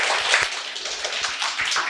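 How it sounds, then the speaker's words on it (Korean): Audience applause after a study-strategy lecture at a PSAT exam prep seminar, a dense burst of clapping from a room of people, steady and moderately loud for the whole stretch. "다시 한 번 더 큰 박수 부탁드립니다"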